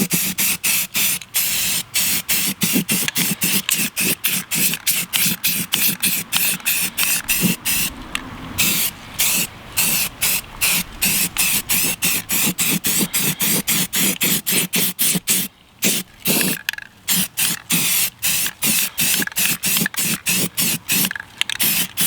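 Aerosol spray coat going onto a car wheel during a repaint, heard as a long run of short, rapid, hissing bursts in a steady rhythm, close and loud, with a few brief pauses.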